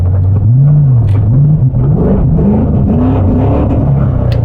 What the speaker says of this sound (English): It wants to idle quite high for a few seconds and then it drops.